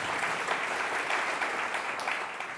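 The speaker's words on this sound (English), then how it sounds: "I'll let that applause happen" Audience applause during a talk on space exploration, a steady, full round of clapping from many hands that holds at even loudness and eases slightly near the end.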